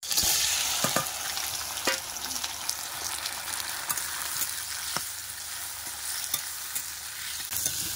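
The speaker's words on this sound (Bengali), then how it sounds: "এবার চিংড়ি মাছগুলো ভেজে নেব।" River shrimp sizzle and spit in a little hot oil, a bright crackling hiss punctuated by sharp pops and utensil taps throughout.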